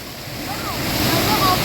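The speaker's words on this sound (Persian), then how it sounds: "نه آبشاریه" Continuous roar of a waterfall up close, a dense steady rush swelling slightly, with faint chirps or squeaks over it and a voice barely present.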